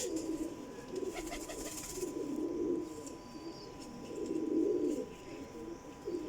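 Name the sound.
Kasuri pigeons cooing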